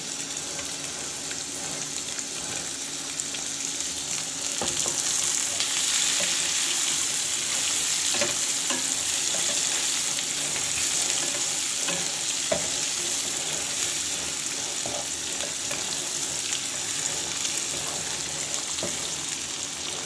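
Chicken pota (gizzards) frying in masala in a pan, a steady close sizzle broken by the scrape and clink of stirring, with no voices.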